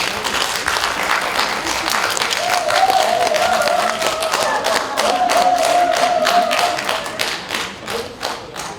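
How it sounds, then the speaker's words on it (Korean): An audience at a Seosan poetry literature festival applauds with sustained, dense clapping that swells and then thins toward the end, with a faint tonal hum running under it. "우리 박수로 모시겠습니다."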